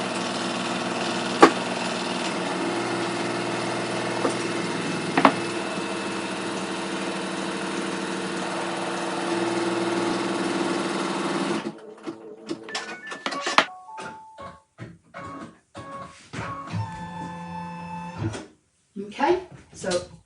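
An embroidery machine stitches a zip bag in the hoop with a loud, steady mechanical whir and rhythmic needle chatter for about eleven seconds, then stops, leaving quieter handling clicks and rustles.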